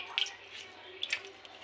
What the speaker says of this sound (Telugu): పచ్చిమిరకాయ రసాన్ని ఇలా ఒక స్ట్రైనర్లో వేసుకుని ఇలా పిండుకోవాలన్నమాట వాటర్ వచ్చేలాగా